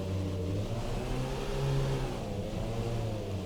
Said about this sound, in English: Clutch in, we'll raise the revs a bit.